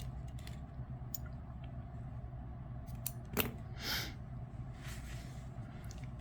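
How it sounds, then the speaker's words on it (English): Scissors snip off a yarn tail from a crocheted puff stitch, a single crisp cut near the middle, close but quiet over a low steady background hum. "Then I'm going to cut that off."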